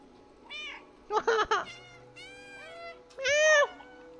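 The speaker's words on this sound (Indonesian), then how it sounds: "Press alternate to meow." A cat in the video game Stray meows several times in short, clear, tonal calls spaced across a few seconds, the last one longest and loudest, with a faint hum underneath.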